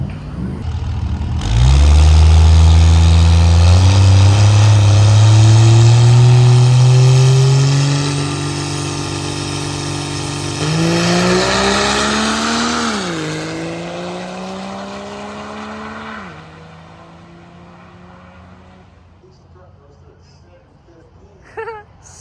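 A drag racing truck roars down the strip on a test pass at a Friday night session, its engine loud and close as it climbs through several gear changes, then fades into the distance, with a voice over it.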